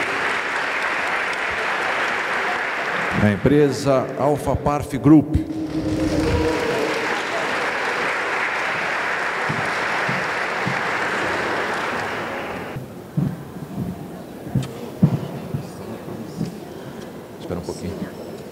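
At a corporate awards ceremony, a large audience breaks into sustained applause that rolls on for several seconds, interrupted by an announcer's amplified voice, then fades into scattered claps and room noise with further speech.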